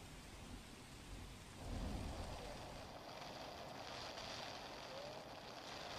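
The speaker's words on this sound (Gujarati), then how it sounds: "ગૌરવ, સોમનાથમાં છેલ્લા કેટલાક દિવસોથી વરસાદ પડી રહ્યો છે, આજે પણ વરસાદી માહોલ છવાયો છે." Heavy rain pours on the Somnath seashore during a stormy spell, a dense roaring wash of water with a low rumble swelling briefly near the start, steady and enveloping with no voices.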